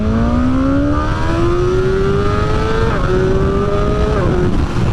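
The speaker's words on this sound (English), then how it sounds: "Jesus Christ, this bike's quite quick" A BMW M1000R motorcycle accelerates hard from close by, its loud engine note climbing steadily with two quick upshifts and rushing wind noise throughout.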